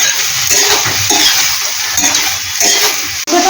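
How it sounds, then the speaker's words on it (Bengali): Boiled banana flower is stirred and fried in hot oil, a loud close sizzle with repeated scraping strokes of a spatula against the pan. "মোচাটাকে কয়েক সেকেন্ড একটু নাড়াচাড়া করে নেব।"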